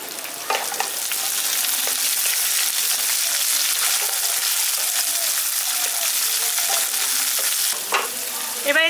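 Shelled peas tipped into a pan of lightly fried onions, sizzling steadily and loudly while a spoon stirs and scrapes through them, with a few faint clinks near the end.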